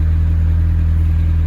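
Steady, loud idle of a Lamborghini Temerario on its OEM exhaust, heard from inside the cabin as a deep, even low-pitched drone with a constant throb and no talking.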